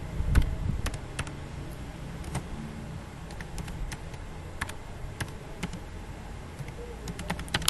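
Someone types a MySQL drop database command on a computer keyboard: sharp, close clicks come in short irregular bursts with brief gaps, over a low background hum.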